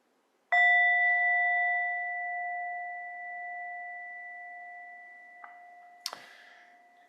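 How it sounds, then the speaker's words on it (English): A single meditation bell struck once to open a practice session, ringing out clearly with a long, sustained tone that slowly fades, alone and close, with a faint click near the end. "I'll offer an opening bell."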